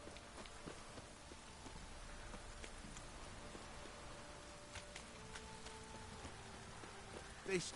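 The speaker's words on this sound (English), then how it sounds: "This downpour's a bastard." Steady heavy rainfall in the video game The Witcher 3: Wild Hunt patters on surfaces throughout, with scattered sharper drops and small clicks mixed into the constant wash.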